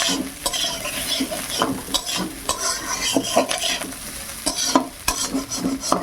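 Drumstick stems sizzle steadily as they fry in oil in a wok. A utensil stirs and scrapes them in repeated, irregular strokes, with clear metallic knocks against the pan.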